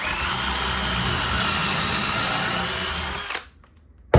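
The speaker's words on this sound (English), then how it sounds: "That allows you to drill a nice hole that you can now run a screw into." A power drill drilling a screw hole in wood runs at a high, steady whine for a few seconds, then stops abruptly, followed by a brief quiet and a sharp click.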